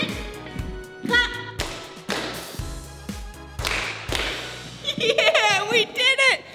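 Sharp rhythmic claps and taps keep time with upbeat dance music in a children's exercise routine, repeated beats over the track, with voices cheering toward the end.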